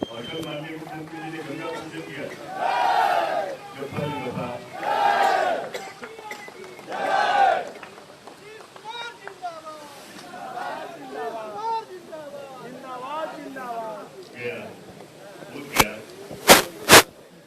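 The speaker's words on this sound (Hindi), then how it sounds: "मुख्यमंत्री नीतीश कुमार के जिंदाबाद के जो नारे हैं वो लगाए जा रहे हैं" A crowd in Gaya chants zindabad slogans for Chief Minister Nitish Kumar at the Ganga water event, with three loud rhythmic chant bursts followed by scattered chatter and a few sharp cracks, while a voice talks over it.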